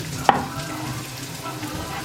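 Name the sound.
onions and green peppers sizzling in a Ninja Foodi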